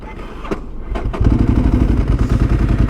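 A Ducati 1098 motorcycle engine idles roughly with low clattering thumps, then swells louder and steadier as it catches, close and alone.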